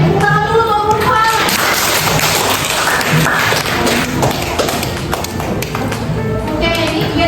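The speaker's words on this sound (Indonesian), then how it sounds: "tepuk tangan dulu untuk Furqan" Classroom applause for a student, a dense, loud wash of many hands clapping continuously, with children's voices mixed in underneath.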